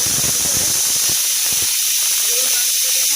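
A pressure cooker vents steam in a home kitchen while a bitter gourd dish is being cooked: a loud, constant high hiss with a few low knocks and rattles underneath early on.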